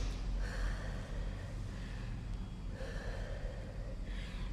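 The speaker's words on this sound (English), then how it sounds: "Start to calm your breathing." Heavy, rhythmic breaths after a boxing conditioning workout, a few long audible inhales and exhales rising above a steady noisy background, close and moderately faint.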